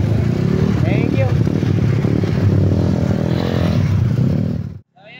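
Balance Crank 196cc motorcycle engine runs loud and close during a test drive, a rough steady drone with some revving and rattling, cutting out abruptly near the end.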